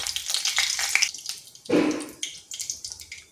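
Nigella seeds and a dried red chili dropped into hot oil in a pan sizzle in bursts, with a sharp louder crackle surge midway and steady hissing throughout, close and without talk.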